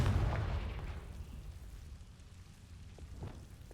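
A Confringo fire spell blasts in Hogwarts Legacy, a deep rumbling boom at the start that rolls off and fades into a low, quiet hum with a faint crackle near the end.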